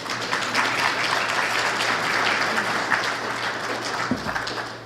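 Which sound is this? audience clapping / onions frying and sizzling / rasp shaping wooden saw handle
audience clapping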